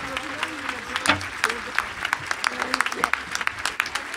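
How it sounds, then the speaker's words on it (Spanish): Audience applause for the Betanzos band at a civic concert, dense clapping with a few sharper claps standing out, steady and fairly close, with voices mixed in over it. "Esta banda de Betanzos se merece esta ovación"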